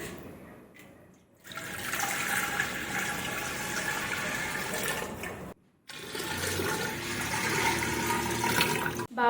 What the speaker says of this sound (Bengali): এই যে জল ভরে দিচ্ছি।